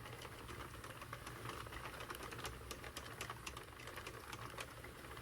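A hand-cranked Sentro knitting machine turns steadily, its needles producing a dense, continuous mechanical clicking and rattling at a close, even pace with no voices.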